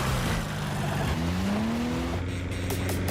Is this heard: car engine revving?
yes